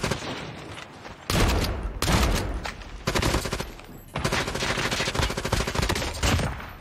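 Video game gunfire, dense bursts of rapid automatic shots in several long volleys broken by brief gaps, loud and close with no talking.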